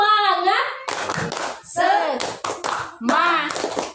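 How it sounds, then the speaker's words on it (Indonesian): A group of adults in a classroom-style session performs the rhythmic Indonesian 'tepuk semangat' clap, with short patterned bursts of hand claps alternating with loud chanted voices in a quick call-and-response rhythm. "Coba kita tepuk semangat dulu. Tepuk semangat."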